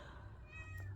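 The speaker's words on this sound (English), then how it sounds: "My cat is meowing at me." A house cat gives a single drawn-out meow, faint and slightly distant, in a quiet room with no talking.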